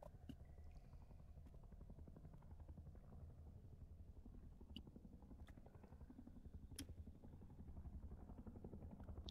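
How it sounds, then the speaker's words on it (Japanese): A helicopter flies overhead in the survival game Rust, its rotor producing a faint, steady rhythmic chop that holds throughout, with occasional small clicks from the game and no talk. "てか上にヘリコプターが。"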